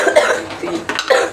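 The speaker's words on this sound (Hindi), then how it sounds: "खांसी बहुत ज़्यादा हो गई है।" A woman coughs several times at home in a kitchen in the morning, short rough bursts close to the microphone with faint household clatter.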